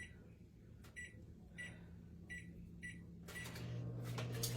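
A kitchen microwave oven heating heavy whipping cream: a few sharp keypad beeps, then a steady low hum that swells as the oven runs, close and fairly quiet with no talking.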